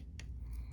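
Scissors snip through quilt stitches, a couple of faint, close, crisp cuts in quiet surroundings.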